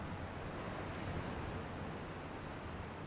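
Ocean waves out at sea, a steady, full wash of surf with wind noise, continuous and fairly loud throughout with no voices.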